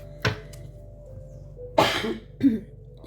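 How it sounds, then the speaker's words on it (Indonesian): Three separate coughs, close and fairly loud: a short one, then two harsher bursts about a second apart, with quiet in between. "lagi batuk"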